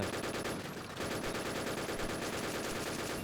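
Rapid automatic gunfire crackles nonstop in a Lego-map shooter video game, dense bursts stacking into a continuous rattle at moderate volume with no talk.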